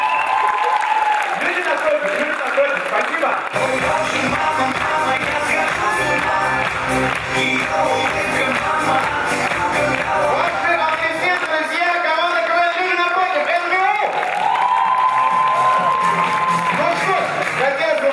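Audience applause and cheering at a KVN comedy competition final in a hall, a long sustained roar of clapping mixed with music and crowd noise, with voices over it.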